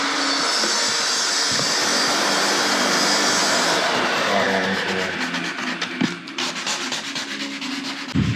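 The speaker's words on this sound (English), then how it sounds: "now just using 800 grit like sandpaper just to sand very lightly like the edges where we're gonna put the sealant" Light sanding with 800 grit sandpaper along the edges of a roof hatch on a Unimog camper makes a steady, close rubbing hiss. Partway through it gives way to quicker, softer strokes with a few knocks.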